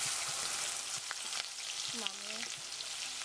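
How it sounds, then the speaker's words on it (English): Garlic and onion sizzle and crackle steadily in a hot pan, a close, bright frying hiss with a faint voice briefly underneath. "she's frying up the garlic and the onion"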